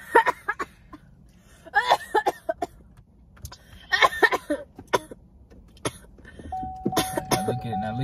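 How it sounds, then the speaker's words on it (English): Someone coughs in several short, harsh bursts, with pauses between them and a quiet background hum. "Start coughing, bro."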